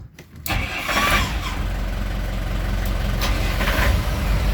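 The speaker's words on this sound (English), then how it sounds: "I'll just show you the engine start up again, just a quick start up." A Bayliner 3450 Avanti motor cruiser's engine cranks and catches after a short quiet moment, then settles into a loud, steady, close running rumble with no talking.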